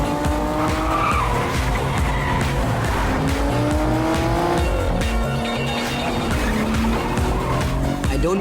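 A sports car pulls away with loud, sustained tire squeal and rising engine revs, the screeching streaks rolling on for several seconds close by, with no talking.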